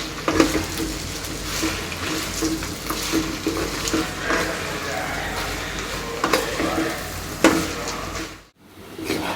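Jute leaves fry in a pan for a Bengali home-cooked dish, with steady sizzling and scraping stir strokes recurring throughout, fairly loud and close, dropping briefly to near silence near the end.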